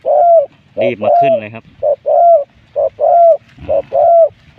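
A dove with a medium-to-large voice coos repeatedly in a steady short-long pattern, near and clear, while someone briefly talks over a couple of the calls.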